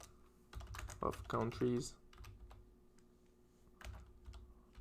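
Fast bursts of typing on a computer keyboard, close and fairly quiet, with brief pauses between runs of keystrokes and someone speaking softly alongside.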